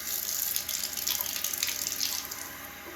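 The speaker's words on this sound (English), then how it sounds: "But let me add a little more water." Warm water running from a kitchen tap into a yeast fertilizer mixture, a steady close splashing hiss that continues without a break and with no talking.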